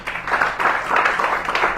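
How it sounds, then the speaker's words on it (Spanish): Church congregation applauding together, a steady, fairly loud wash of many hands clapping at once that holds evenly across a brief stretch. "Dele un fuerte aplauso al Señor"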